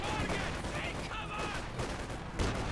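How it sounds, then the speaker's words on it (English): Grenades burst in a Company of Heroes 2 match, a dense run of battle blasts and gunfire-like cracks amid steady game noise, with a commentator talking over them throughout. "Grenades going off there."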